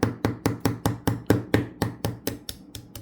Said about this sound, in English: and do the same thing, hammer it.